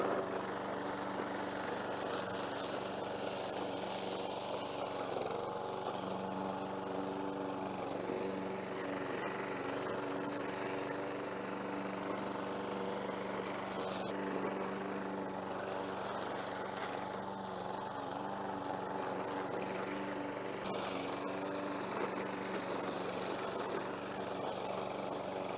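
A self-propelled lawn mower runs continuously on a steep hill through high grass, its engine droning steadily and loudly with a buzzing, vibrating tone and slight surges, and no talking.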